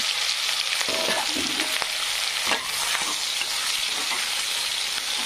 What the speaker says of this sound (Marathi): छानपैकी कांदा असा फ्राय होऊ द्यायचा।